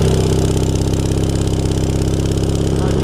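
A Sears SS16 garden tractor engine running just after a cold start at -25C, a loud, close, steady rhythmic chugging idle that stays even throughout.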